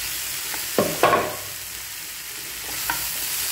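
Greens with curry leaves and crushed ivy gourd stirred and sautéed in a pan, with a couple of sharp scraping clatters and a soft sizzle that comes and goes, no talking.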